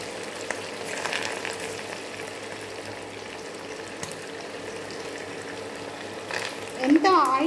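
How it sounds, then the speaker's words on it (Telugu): Chicken pieces and green chillies frying in oil in a pan for crispy cashew chicken pakoda, giving a continuous bubbling sizzle with a louder splutter near the end. "ఎంత ఆయిల్ వరకు ఉందో అంత వరకే చికెన్ పీసెస్ వేసుకొని వేయించుకోవాలి"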